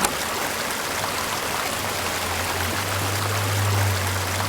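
A village stream of fresh water in a video game, flowing steadily with a constant rushing and trickling wash, close and even throughout with no voices.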